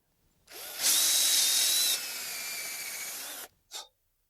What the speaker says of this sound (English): Drill each hole about 2 to 3 inches deep, slanting slightly upward into the trunk.